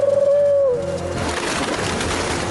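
A cartoon pigeon gives a short rising-and-falling coo near the start, followed by a dense wash of bird noise and fluttering that lasts to the end, loud and with no talking.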